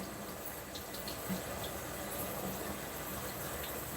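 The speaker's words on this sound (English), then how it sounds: "Rinse off that onion" Tap water runs steadily over an onion being rinsed under a kitchen faucet, a faint, even splashing hiss that continues without a break.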